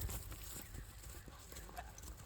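A young horse, number three at a rural Kyrgyz horse showing, walks past with steady, fairly close clip-clopping hooves while voices murmur in the background.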